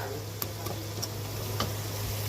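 A spoon stirs pork rib kaldereta with Knorr cube seasoning in a pan, giving faint scrapes and a few sharp ticks over a soft, steady sizzle and a low background hum, with no talk.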